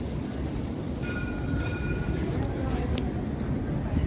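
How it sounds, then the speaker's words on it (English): A passing public train in Israel rumbles nearby while a clear, sustained bell-like tone rings for a moment, with faint voices in the background. "That bell is the public train."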